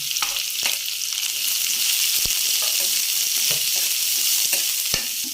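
Onion and capsicum fry with crushed garlic in hot oil, a loud continuous sizzle and crackle heard up close, with occasional spoon taps against the pan.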